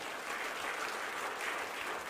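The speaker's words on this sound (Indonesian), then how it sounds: "Tepuk tangan yang meriah buat Allah kita" A church congregation applauding during a Christmas sermon, a steady, even wash of clapping from many hands heard from some distance.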